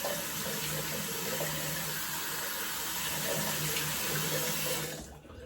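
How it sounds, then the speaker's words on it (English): Water splashed on the face before a shave with a Dollar Shave Club kit: steady close running and splashing water from a tap for about five seconds, then it stops abruptly. "let's go ahead and splash a little bit more water on my face and use that pre-shave"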